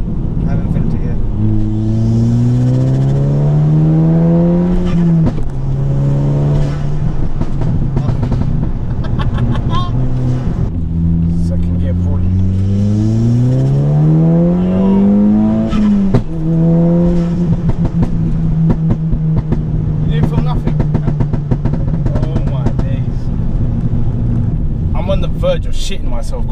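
A modified 340 BHP four-wheel-drive Mk5 Golf GTI pulls hard through the gears, its engine note climbing steadily in loud, repeated sweeps with brief dips at each shift. The roar stays close and constant.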